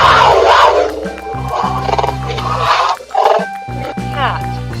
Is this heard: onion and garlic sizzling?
no